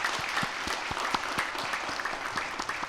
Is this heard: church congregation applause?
yes